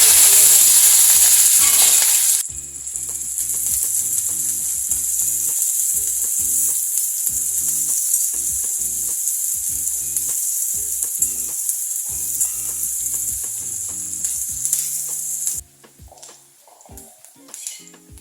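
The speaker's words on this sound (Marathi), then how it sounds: "आपला कांदा परतला जातोय" Chopped onion sautéing in oil with spluttered cumin and mustard seeds for kande pohe, a loud steady sizzle close up with occasional spoon scrapes and stirring clinks, cutting off near the end to quieter kitchen clatter.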